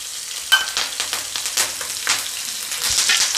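Green chillies frying in a hot pan for dhaba-style chana dal, giving a close, busy crackling sizzle broken by repeated scrapes and clatters of stirring.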